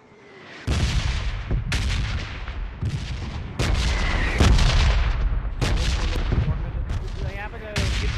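Sustained enemy squad gunfire in PUBG Mobile, loud and close, with repeated sharp shots and bursts rolling one after another over the whole stretch, blending into a continuous barrage.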